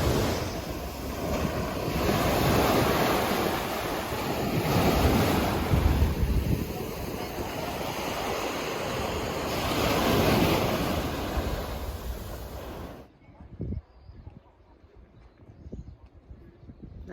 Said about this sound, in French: Ça, c'est la plage de Ré, sur l'île de Crète. C'est la plus longue plage de l'île.